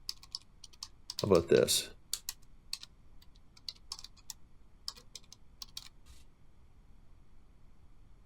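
Computer keyboard typing while writing MATLAB code, with a quick burst of close key clatter followed by scattered individual clicks that fade away; a person speaks briefly.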